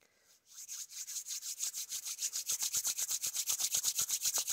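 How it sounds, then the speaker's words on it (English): Two hands rubbed briskly together close by, a steady run of rhythmic rasping strokes that speeds up slightly, heard alone without talk. "I rub my hands together"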